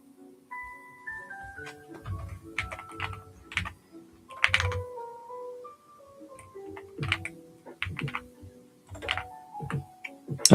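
Keys are struck on a computer keyboard in an uneven run of crisp clicks and taps, close and fairly quiet, with faint tonal notes stepping in pitch beneath the keystrokes.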